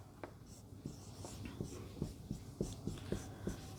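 Pen or chalk writing the word Bihar during a Hindi lesson on mirror and water images: a series of short, soft strokes and taps, close and fairly quiet, with no talking.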